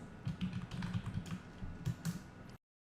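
Quick keystrokes on a computer keyboard as a Photoshop layer gets a name, a steady run of close, light clicks lasting a couple of seconds before stopping abruptly.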